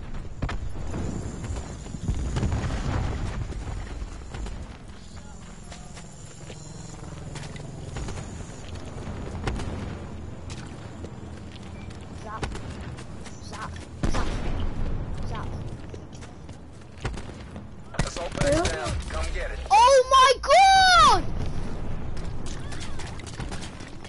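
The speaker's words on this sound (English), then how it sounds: "Throwing cluster grenade." Cluster grenade thrown and bursting in an online shooter game, heard as a sharp cluster of bangs and crackles near the end amid steady in-game clatter, with players talking over it.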